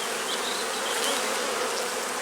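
A dense, steady hum of many honeybees buzzing close by in a queenless hive, continuous and even, with no voices.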